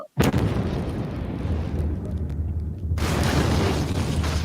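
Controlled explosion beneath woven tires beside a main road: a sharp, loud boom at the start followed by a long rumbling roar and debris noise that lingers, then a second surge of broad noise near the end.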